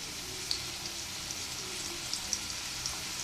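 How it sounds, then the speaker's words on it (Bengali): Potatoes with a little salt frying in a pan, a steady soft sizzle and crackle with a few sharp pops, close and alone. "লবণটা দিয়ে আলুটা ভেজে নেব"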